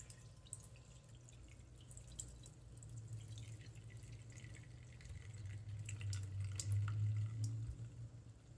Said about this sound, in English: I'm just rinsing the millet as one does when you have a real organic, nice grain.